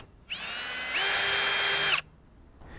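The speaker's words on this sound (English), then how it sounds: "So get your drill and drill two holes at the bottom right here." A power drill bores holes into plastic steering wheel trim during a quick release steering wheel install, one loud steady whine of about two seconds that steps up in pitch midway, then stops abruptly, close up with no talking.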